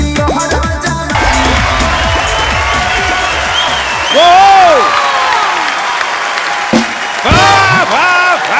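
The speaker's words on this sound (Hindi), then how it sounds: "जोरदार तालियां मासूम और पाल्टन के लिए" A studio audience on a comedy talk show claps and cheers in a burst of applause, mixed with voices and music over the crowd noise.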